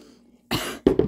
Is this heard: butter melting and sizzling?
no